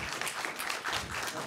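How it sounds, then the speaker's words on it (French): Brief, steady audience applause at a conference panel, a dense wash of clapping from a seated crowd lasting only a moment. "C'est vrai que vous pouvez applaudir"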